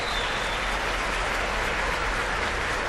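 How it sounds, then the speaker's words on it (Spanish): Sustained applause from a big crowd in Valladolid's Plaza Mayor during the Armed Forces Day ceremony, a thick and even roar of clapping echoing around the enclosed square for several seconds. "Aplausos cerrados que, además, por las características de la ubicación de este acto central en la Plaza Mayor, pues resuena mucho más."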